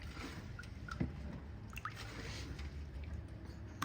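Hands rub guinep pulp in a bowl of water, giving soft wet squishes, small drips and sloshes close by over a low, steady background hiss.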